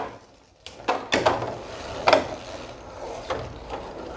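Beyblade G Revolution spinning tops, including Dragoon G, Dranzer G, Draciel G and Drigger G, spin and clash in a battle, with sharp metallic clicks and rattling impacts in irregular bursts, fairly close.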